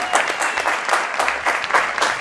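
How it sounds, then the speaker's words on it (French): Studio audience at a French TV dating show breaks into loud, sustained applause for a contestant, dense clapping with a few whoops rising and falling throughout. "Tonnerre d'applaudissements pour Siméon."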